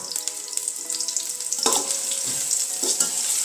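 Onions and bay leaves frying in a pan, with a bright steady sizzle broken by a few louder scraping stirs near the end, close and without voices.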